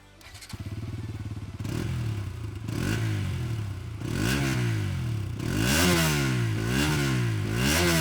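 A Bajaj Pulsar NS200 BS6 with a 199cc liquid-cooled single-cylinder engine idles close by, then is revved in a series of sharp throttle blips that climb higher and louder each time, with no talk.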